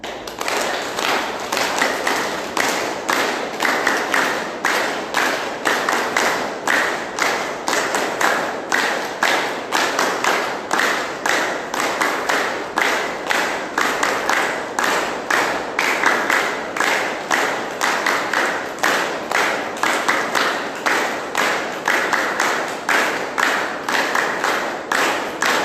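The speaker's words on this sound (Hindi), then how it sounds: "तालियां बजाएंगे एक साथ," Group of yoga class participants clapping hands together in a steady, even rhythm, dozens of sharp claps in unison throughout, loud and close with no talk over them.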